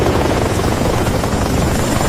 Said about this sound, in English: Special Forces arrived in Little Bird helicopters